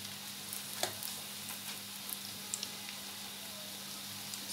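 Bread cheese rolls frying in hot oil, a quiet, even bubbling sizzle with a faint low hum underneath and a handful of small crackles and taps.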